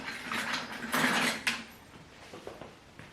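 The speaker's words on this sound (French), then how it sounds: "Nana m'aide pour vider le lave-vaisselle. Donc du coup, elle me donne les couverts" Cutlery being unloaded from a household dishwasher by a small child, with light metallic clinks and rattles of spoons and forks, close and busy, over a low kitchen murmur.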